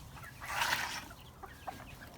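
Chickens cluck and call in a coop, one louder squawk near the start followed by a few softer clucks, close by with no talk.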